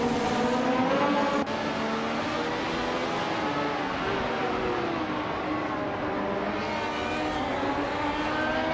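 The engine of a Lotus 100T race car in a racing video game howls at high, sustained revs, steady and loud with slight pitch shifts as it accelerates, running continuously throughout.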